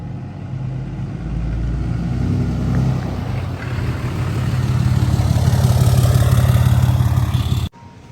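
A Cummins diesel truck engine with its air filter removed and intake unrestricted runs loud and close, a steady low drone with turbo whine rising over eight seconds, then cuts off abruptly near the end.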